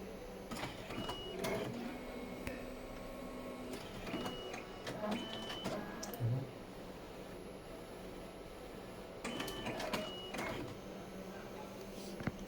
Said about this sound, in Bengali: এই যে নন স্টপ প্রিন্ট করতেছে।